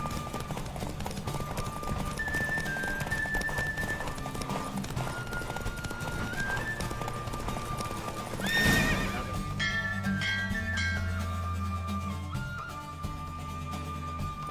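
Hooves clip-clop steadily as a horse gallops in a race in The Witcher 3, with a neigh midway and faint game music and voices beneath.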